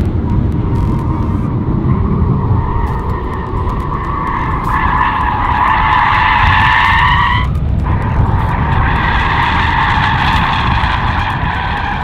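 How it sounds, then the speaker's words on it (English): Tesla Model 3 doing donuts in the desert, a loud continuous tire screech with a steady tonal squeal that bends in pitch as the car spins, briefly breaking before resuming over a rumbling roar. "they're about to rip donuts in the middle of the desert"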